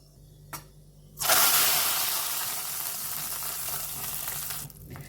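A hot tempering of red chillies is poured into boiled buttermilk curry, setting off a sudden loud hiss. It settles into a steady sizzle and bubbling for several seconds and then cuts off abruptly, close and without voices.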